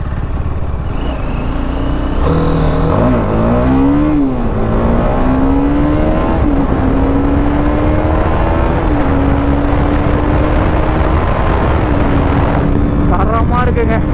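A TVS Apache RR310 motorcycle accelerating in third gear, loud engine note rising in pitch then holding steady under heavy wind rush, with a rider talking over it.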